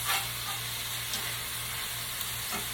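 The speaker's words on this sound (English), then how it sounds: "So I'm just frying up my chicken livers." Steady, crackling sizzle of chicken livers frying in a hot pan, close and continuous, with faint pops through its short length.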